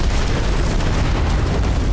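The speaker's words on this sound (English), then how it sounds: "I didn't ask for the cause of the explosion." Explosion in the video game Strange Brigade: a dense, continuous roar of blast and debris noise with heavy low rumble, sustained loud throughout without speech.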